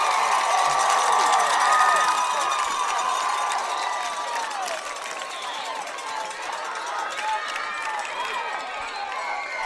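A crowd cheering and shouting at a Friday night high school football game between Tolsia and Tug Valley, a sustained loud roar that eases slightly but continues throughout.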